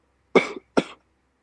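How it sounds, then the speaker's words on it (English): Two short, sharp coughs ring out close to a microphone, one after the other in a quiet room, with silence before and after. "That's not saying anything. That's coughing"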